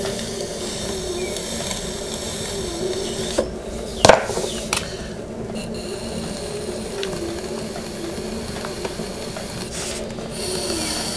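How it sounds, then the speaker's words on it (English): A trimming tool scrapes across a clay supper plate on a potter's wheel, a steady gritty rasp as grit in the clay kicks up, with one brief sharper scratch partway through; no voices. "seems to be quite a lot of grits in this clay because I can hear it kicking up"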